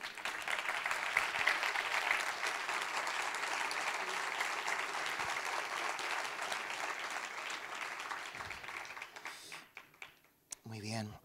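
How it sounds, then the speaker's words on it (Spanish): Church congregation giving a loud round of applause to God after a prayer, a thick continuous wash of clapping that gradually thins and fades, with a voice speaking near the end. "Dale un fuerte aplauso a Dios."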